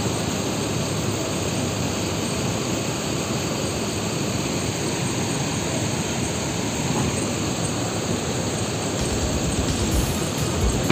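A PO Haryanto coach with a Mercedes engine and an Adi Putro Jetbus 3 Voyager body gives off a steady, loud, close roar and hiss that barely changes throughout, with no talking.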